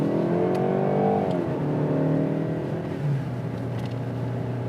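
A 2018 Jaguar E-Pace with a nine-speed ZF automatic accelerates hard, its engine note climbing loudly through the revs, then dropping as it shifts and settling into a steady drone, with no talking.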